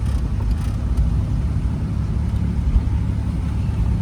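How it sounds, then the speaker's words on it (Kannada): A loaded goods truck drives ahead on the Agumbe ghat road, heard as a steady, loud engine rumble and road noise from a following vehicle, with no speech. "ಎದುರುಗಡೆ ಒಂದು ಲೋಡ್ ಗಾಡಿ ಹೋಗ್ತಾ ಇದೆ"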